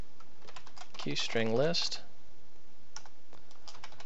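Someone types on a computer keyboard while writing C++ Qt code: a short spoken phrase comes first, then light, scattered key clicks follow at a moderate distance.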